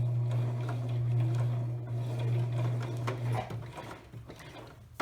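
A sewing machine runs steadily and close up while stitching the corner of a reversible cloth napkin, its motor hum continuous for about three and a half seconds before stopping, followed by faint handling noises.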